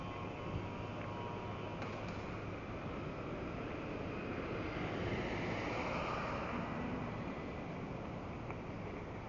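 Steady outdoor breeze rushing past on a walk in Burgos Circle, BGC, a constant airy hiss with gentle swells and no voices.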